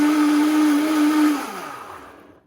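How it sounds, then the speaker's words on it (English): A powerful countertop blender whirs at full speed through a collagen smoothie, a loud steady motor roar that then winds down and fades out as it is switched off. "I have a very powerful blender, so it doesn't take long."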